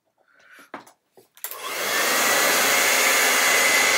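After a few soft taps and rustles, a hair dryer switches on and blows a loud, steady close whoosh to dry paint on a flower painting.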